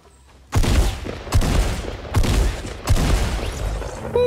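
Pump shotgun blasts from Fortnite, four loud booming shots spaced roughly a second apart, each with a sharp attack and a lingering tail, with no talking over them.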